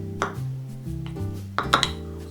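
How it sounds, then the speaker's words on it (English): A spoon scrapes and clinks against a bowl while peanut butter and soy sauce are stirred together. Short clatters come in two bursts over a low, droning background tone. "And now we're just going to stir this up a little bit"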